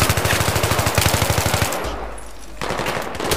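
Rapid automatic machine gun fire in the video game Battlefield 3, a loud fast burst of evenly spaced shots for over a second, then a short lull and more gunfire noise.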